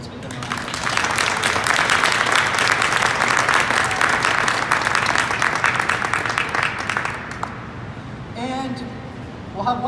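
A crowd applauds transit fleet employees at a Guelph transit funding announcement, loud sustained clapping that fades after about seven seconds, followed by a voice speaking.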